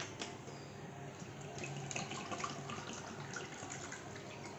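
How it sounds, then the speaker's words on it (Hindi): Water is poured into a semolina batter with flour and salt for rava uttapam, a soft, steady splashing trickle, faint and close, with no talk over it. "उसके बाद हम देंगे सर पानी"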